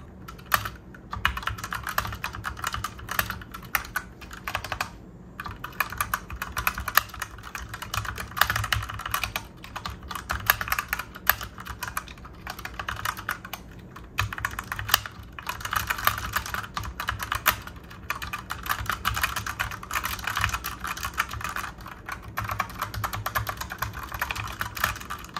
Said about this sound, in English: listen on how it sounds like when you type in